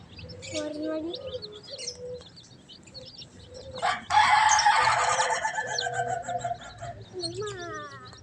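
Colorful hens and baby chicks in a cage make a busy mix of clucks and high chirps, with a loud rooster-like crow in the middle. The birds sound close, and a voice talks now and then.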